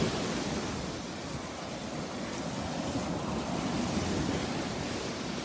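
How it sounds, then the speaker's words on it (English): Ocean surf breaking on a beach at Delnor-Wiggins, a steady dense wash of noise with wind over the microphone and no distinct individual wave crashes. "That surf's probably gonna get rougher later in the day as that front gets closer to us."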